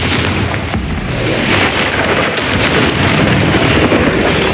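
A Confringo blast spell explodes in the Hogwarts Legacy video game, a loud, dense roar of booming noise that holds steady throughout without any break.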